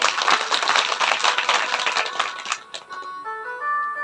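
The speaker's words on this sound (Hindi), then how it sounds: "उनके लिए ताली।" An audience at a Shiv Mahapuran religious discourse breaks into sustained clapping and applause that fades out after about three seconds, leaving a faint lingering tone.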